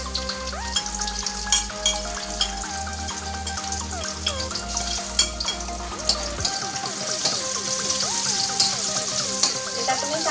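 Shallots frying in a pan of oil for a shrimp in oyster sauce dish, giving a steady close sizzle with light stirring throughout, under background music.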